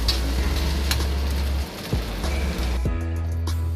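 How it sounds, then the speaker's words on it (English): Steady, loud sizzling of chicken and shrimp fried rice frying in a pan as scallions are stirred in, with a few scraping strokes and brief dips in the hiss, no talking. "We're about to add our scallions and mix it in nicely."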